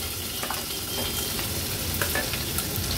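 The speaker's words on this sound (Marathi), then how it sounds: "लसूण आणि मिरची तेलावर थोडीशी परतून घ्यायची आहे।" Crushed garlic cloves and two green chillies hit hot oil for a tempering, producing a loud, dense sizzle with stirring scrapes throughout.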